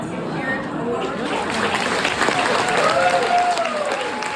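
Warm applause from an audience greets Karen Sullivan, a sailor who crossed from Port Townsend to New Zealand, steady clapping from a crowd in a room with a few brief cheers and voices mixed in.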